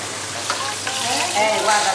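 Sage leaves coated in batter deep-frying in hot oil, a close, steady sizzle and crackle with faint bubbling throughout.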